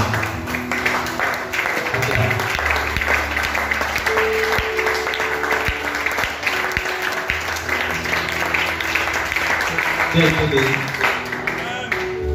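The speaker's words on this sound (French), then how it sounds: "Lève-toi et acclame aussi." Applause from a church or congregation audience fills the space, steady and dense from start to end, with voices and crowd noise mixed in underneath.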